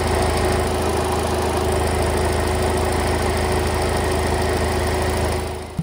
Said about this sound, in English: my AC compressor has started rotating